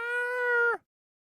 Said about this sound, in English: the incessant yelling of a cat in heat